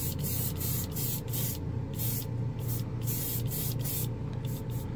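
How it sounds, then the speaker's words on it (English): An airbrush spraying clear lacquer gives off soft, quiet bursts of hiss in short pulses separated by brief gaps, close by and fairly faint. "This airbrush is really quiet as far as letting air out."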